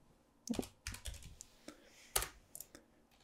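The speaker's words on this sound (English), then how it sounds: "type labs splatter" Quiet clicks of typing on a computer keyboard come in a few short, irregular bursts of keystrokes, close and with no talk over them.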